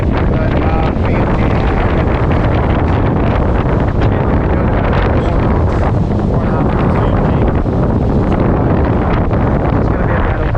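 Strong 28-knot winter wind at sea aboard a sailboat in Croatia, a loud, constant roaring buffet of wind across the microphone mixed with rushing water, with no break for the whole stretch.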